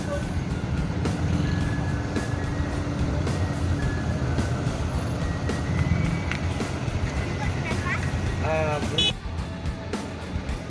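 A bus engine rumbles steadily amid busy traffic noise as it maneuvers in the Solo bus terminal, with reversing beeps chirping near the end while people talk in the background.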